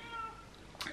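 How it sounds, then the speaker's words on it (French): A pet cat meows indoors, a short faint call near the end of a quiet moment in a home workshop, following soft background sound. "Et là j'ai Shadow qui miaule"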